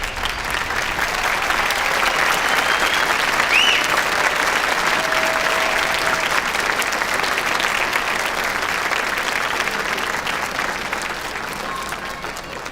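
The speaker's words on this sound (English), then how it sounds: "will you please rise and turn around and join me in applauding everyone here who has made this day possible for you" A large audience at a Trinity University spring commencement applauds with loud, dense, steady clapping that lasts the whole stretch and fades only slightly at the end.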